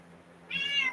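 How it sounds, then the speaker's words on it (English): A cat lets out a single short, fairly close meow after a quiet moment indoors. "I got the cat parade behind me."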